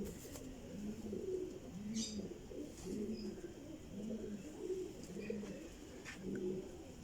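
Pet pigeons of a fancy show breed coo nearby in a quiet setting, soft low rolling calls repeating in a steady rhythm, with a few faint higher chirps in the background.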